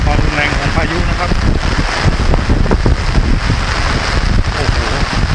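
Heavy rain and strong wind from storm Podul in Mukdahan, northeastern Thailand, roaring as a dense, loud, continuous wash of noise with wind buffeting the microphone and someone speaking over it.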